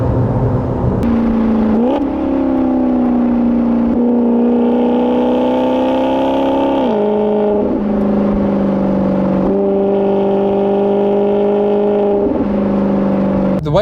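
Ferrari-powered V8 of a Maserati Quattroporte Sport GTS saloon driving, a loud sustained engine drone rising and falling through gear changes and revs, heard close from the cabin, continuous throughout with no talk.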